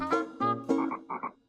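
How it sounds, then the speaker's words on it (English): A cartoon frog croaks several times in quick bursts, close and clear, with no other sound around it. "A frog."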